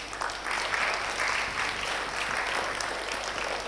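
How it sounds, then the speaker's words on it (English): Audience applause filling a lecture hall at a research center induction programme, a steady wash of many hands clapping at moderate volume throughout, with no voices over it. "Express your happiness through an applause."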